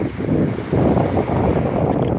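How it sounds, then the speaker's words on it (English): Steady loud wind buffets the microphone on a damp seaside promenade, a continuous low roar that swells and gusts throughout with no talk. "Just a bit windy."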